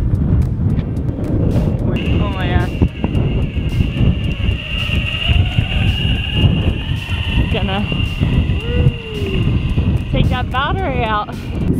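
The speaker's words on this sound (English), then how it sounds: "Super windy up here." Strong wind buffets the microphone in a constant roar, with voices talking and calling out over it.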